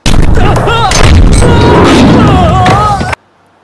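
Gunshots and heavy booms ring out in a movie bank robbery scene, a few loud blasts mixed with dramatic music and shouting voices before cutting to silence.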